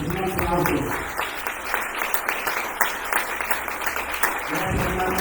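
Sustained applause from an audience at the end of a talk fills the room, dense and steady for several seconds, with some voices mixed into the clapping.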